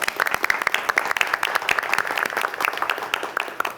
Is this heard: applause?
yes